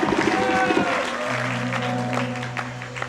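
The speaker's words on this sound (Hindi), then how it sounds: "आपके प्यार के लिए मैं तालियां बजा रहा हूं" An audience at a Hindi spiritual discourse applauds along with the speaker, giving steady dense clapping at moderate loudness while a sustained tone and faint voices carry underneath.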